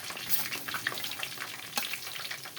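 Cumin seeds crackle and sizzle in hot oil with mustard and fenugreek seeds, a close, steady frying hiss with scattered sharp pops.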